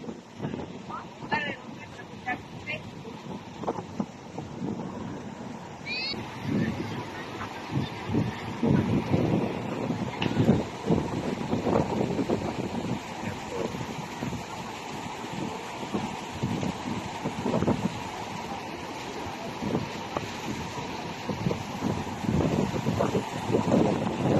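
Heavy wind buffets the microphone over a steady roar of rough surf at a beach in Alabel, Sarangani Province, with a voice speaking now and then through the noise.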